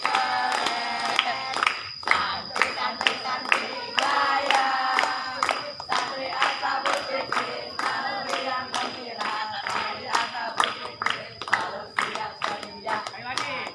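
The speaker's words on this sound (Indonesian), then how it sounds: "Satu, 2, 3 sambil muter tepuk tangan." A team-building group claps hands together in sharp, rhythmic bursts while moving around, loud and close, with voices shouting and counting along between the claps.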